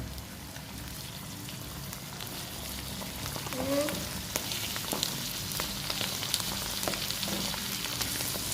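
Onions sizzle in a pan at the start of a chicken dish with cream and mushrooms, a steady soft crackle with a few brief clinks and light stirring sounds over the top.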